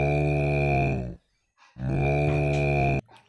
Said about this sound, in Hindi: काओ, काओ मींस गाय।